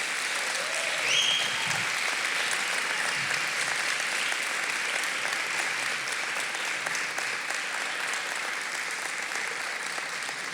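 Sustained applause from a large audience in honour of the children at the opening session of a culture and education biennial, a dense, steady wall of clapping that carries on evenly without a break.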